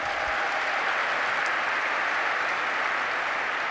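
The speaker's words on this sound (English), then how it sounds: "round of applause for the keynote speakers" Steady, dense applause from a large conference audience for the keynote speakers at INBOUND 2014, loud and sustained with no break.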